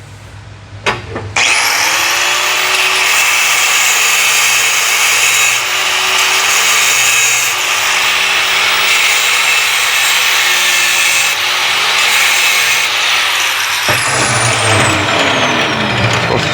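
A power tool cuts steadily into a Corvair engine's aluminum oil plate for a custom 8-plate to 12-plate oil modification, a loud continuous whine and grind held for about twelve seconds before stopping, with no talk.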